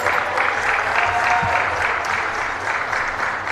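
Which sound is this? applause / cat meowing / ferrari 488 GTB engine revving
applause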